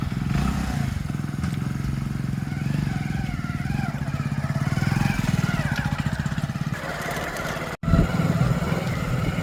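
A motorbike engine runs steadily close by in a village, ready to ride to a Lakshmi idol immersion procession; a continuous low droning rumble with a brief cut-out near the end before it picks up again.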